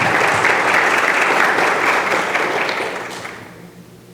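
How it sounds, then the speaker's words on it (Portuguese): Audience applause for a speaker at a talk on ecological ICMS and sanitation, dense and even clapping at close range that fades out over the last second. "Salve de palmas, então, para o Rodrigo."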